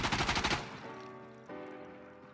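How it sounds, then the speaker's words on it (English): A QBZ rifle fitted with a foregrip fires a rapid, loud burst of about eight shots during a recoil test, followed by ringing echoes that fade out. "firing the QBZ with a foregrip"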